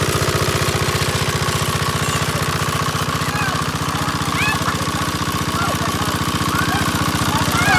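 An engine-driven pump drains floodwater from a sunken river boat, its motor chugging loudly in a fast, steady rhythm throughout while people talk nearby.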